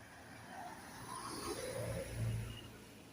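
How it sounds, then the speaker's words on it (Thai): Car driving along a road, heard from inside the cabin, a low steady engine and road rumble that swells slightly as it accelerates, faint and continuous. "เดี๋ยวเอาบรรยากาศตามทางตอนนั่งรถพร้อมนะพี่น้องเนาะ"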